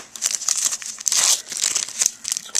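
A foil wrapper on a 1998 Press Pass Racing trading card pack gets torn open, loud close crinkling and tearing in quick bursts for a few seconds with no talk.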